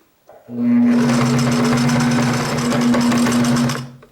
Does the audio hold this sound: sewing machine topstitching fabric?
yes